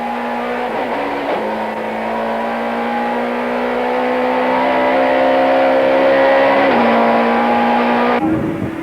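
Touring race cars at a 1994 supertouring race in East London, South Africa, working through tight corners: loud, sustained engine notes that dip and climb as the drivers lift and accelerate, with gear changes marking each shift in pitch.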